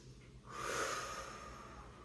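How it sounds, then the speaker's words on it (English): A single long, breathy exhale rushes out close to the microphone during a Pilates mat exercise, soft and airy, fading gradually. "You can exhale here, inhale as we reach."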